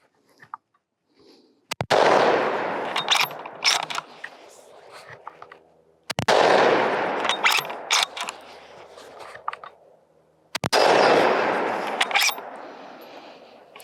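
Three sharp, loud reports from a Howa 1500 Mini Action rifle, evenly spaced roughly four seconds apart, each followed by a ringing decay and the clatter of the bolt being cycled.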